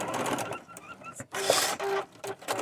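A sewing machine that badly needs oil runs in short, uneven bursts, rattling and whirring harshly with squeaky tones, close and fairly loud with brief pauses between runs.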